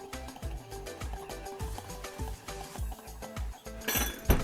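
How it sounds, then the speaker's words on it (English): A spoon stirs beef stir-fry sauce mix in a small bowl, rapid rhythmic clinks of metal against the dish, close and steady for several seconds with no talking. "I'm just going to mix them all up."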